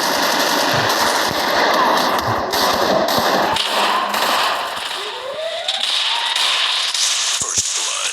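A mobile shooting video game plays rapid bursts of gunfire and impacts close and loud, with other game effects layered in and no talking.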